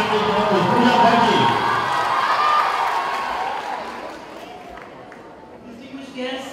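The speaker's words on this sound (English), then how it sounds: "Let's make a big, big round of applause for the team" A crowd at a tree-planting festival event claps and cheers loudly at first, the applause gradually fading away over several seconds.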